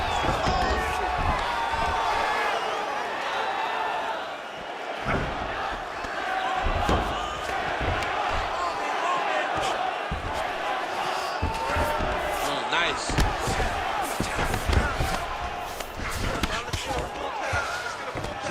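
An arena crowd at an MMA fight roars and cheers steadily in the background, with bursts of shouting and thumps from the cage, while commentators talk over the noise.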